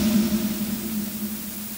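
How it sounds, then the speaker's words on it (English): Noise-shaped dither noise left after MP3 encoding and boosted 60 dB, a steady hiss with a low hum band that runs unbroken and fairly even throughout, with no voices. "With noise shaping, the noise sounds a bit less objectionable."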